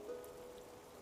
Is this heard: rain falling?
yes